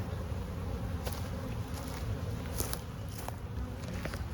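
Honey bees buzz steadily around a beehive in summer heat, a dense close swarm hum with occasional louder passes near the microphone, no talking.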